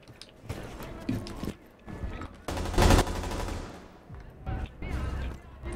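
Rapid gunfire bursts from a Rainbow Six match, loudest around the middle, with quieter shots and game sounds around it and a voice talking intermittently.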